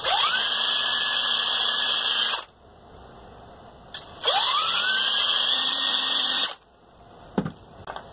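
Power drill boring 2.5 mm and 6 mm holes into a PVC chassis part, two loud sustained high-pitched whining bursts that spin up quickly, each about two seconds, separated by quiet pauses with a small knock near the end.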